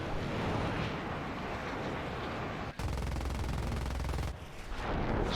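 Cannon fire from an F-5E jet in War Thunder, a dense rapid burst of rounds running without pause over steady engine roar, loud and close, with a brief dip partway through.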